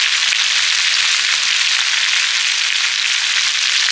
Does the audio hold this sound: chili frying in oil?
yes